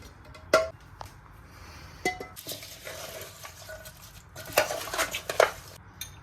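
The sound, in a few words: stirring mango chicken pickle mixture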